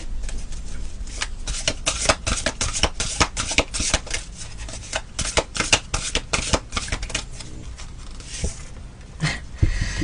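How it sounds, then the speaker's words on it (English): Tarot cards slapped and riffled from a deck in a dense run of crisp papery flicks and snaps, close and steady for the whole stretch with no talking. "I'm gonna grab one more card here from this deck."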